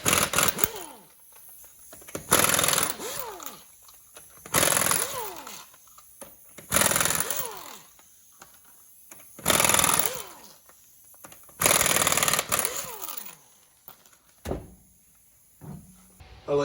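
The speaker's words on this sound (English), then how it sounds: "First thing you can do is start out by taking the lug nuts off." An impact wrench spinning lug nuts off a Chevy Silverado wheel, five loud close bursts of rattling whirr, each winding down, separated by quiet gaps.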